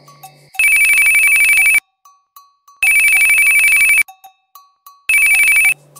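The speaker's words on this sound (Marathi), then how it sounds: "चिंटू झोपलेला असतानाच पिंटूचा फोन आला." A mobile phone ringtone plays in three loud, bright electronic bursts, each lasting over a second, separated by short quiet gaps with faint blips in between.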